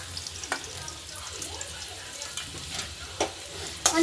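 Onion, garlic and ginger frying in a little oil in a pan, a steady close sizzle with occasional stirring scrapes and light clatters.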